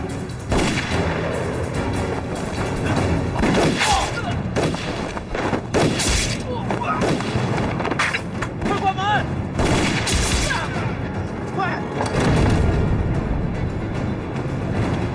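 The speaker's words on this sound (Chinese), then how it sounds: "同时朝大门开枪。" Rapid volleys of gunfire aimed at a gate in a Chinese anti-Japanese kung fu film: dense, overlapping loud shots and blasts crackle almost nonstop, mixed with shouting voices.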